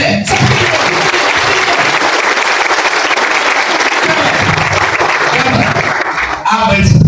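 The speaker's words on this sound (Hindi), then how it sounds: "उनको भी बोलता हूँ एक बार जोरदार ताली बजाएं" Loud, sustained applause from an audience filling a college hall, steady across the whole stretch with a brief dip near the end before it swells again.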